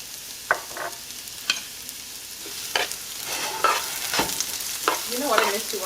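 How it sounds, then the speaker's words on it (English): Chopped onions in olive oil in a pan while making pasta pomodoro, a steady low sizzle broken by a few sharp scrapes and knocks of stirring. No one speaks. "what you're gonna do is you're gonna add your chopped onions"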